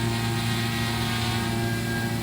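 A Hubsan Zino Mini SE drone flying outdoors in Irvine, California, giving a steady, loud, close propeller whine and buzz with strong even tones, uninterrupted and with no talk.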